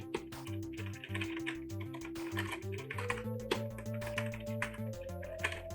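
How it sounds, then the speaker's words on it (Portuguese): Keys clack in quick, uneven bursts on the full-size keyboard of The C64 Maxi, a Commodore 64 replica, close and fairly quiet, with a faint steady tone running underneath. "Mais um ensaio ao teclado."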